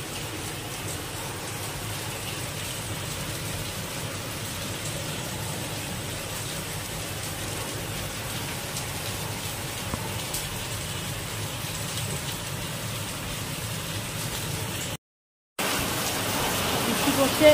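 Heavy rain falls steadily during a Janmashtami celebration at home, a constant even hiss that briefly cuts out near the end before returning slightly louder.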